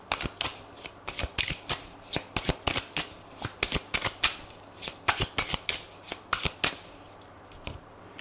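Tarot cards shuffled by hand in quick, irregular riffling bursts, a dense run of crisp papery snaps and flutters, close and fairly loud, with no talking.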